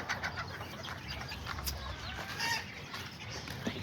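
Kikiriki chickens in a backyard pen, with a rooster among them, give soft, scattered clucks and short calls at a distance, faint over a low background hiss.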